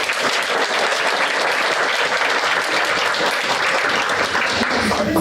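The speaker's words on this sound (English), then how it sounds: "please let's give them one more round of applause" An audience at a Chamber of Commerce career and technical education talk gives the students another round of applause. Loud, dense clapping fills the room evenly for over five seconds.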